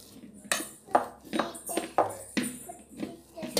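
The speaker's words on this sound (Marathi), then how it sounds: "आता हे मी स्मॅशरने स्मॅश करून घेते." Boiled potatoes mashed with a potato masher in a metal pot, about eight clinking, squelching presses in an uneven rhythm, close and moderately loud.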